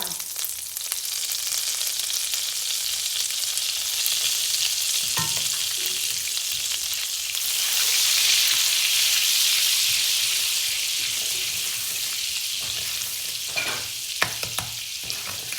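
Butter and salt sizzle and fry in a pot while making popcorn, a steady close crackling hiss that swells midway, with occasional stirring clatters.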